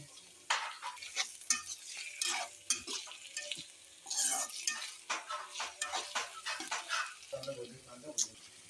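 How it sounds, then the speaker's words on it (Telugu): Chicken goes into a pan of frying onions, green chillies and curry leaves, making a close sizzle broken by irregular stirring scrapes and clinks of a utensil, with quiet voices underneath. "ఇప్పుడు ఇందులోకి చికెన్ వేసుకుంటున్నాను"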